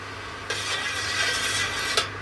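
Date palm wine syrup being stirred in a pot while being brought to temperature, a soft continuous scraping swish with two sharper clinks of the spoon against the side, close and steady.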